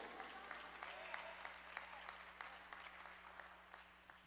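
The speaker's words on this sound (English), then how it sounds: "Clap your hands." Applause from an audience at a Saturday morning forum, a faint, distant patter of many hands clapping steadily throughout.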